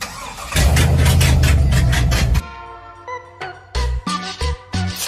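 A modified car engine cranks and fires up loudly nearby, a rough starter whir giving way to a roaring catch, then settling into an uneven, lumpy idle with pulsing revs.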